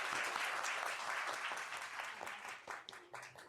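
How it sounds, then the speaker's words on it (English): An audience at a CPR training session applauds coaches and doctors with a full burst of clapping that thins toward the end into scattered, quieter claps. "a big round of applause for all the coaches and our doctors"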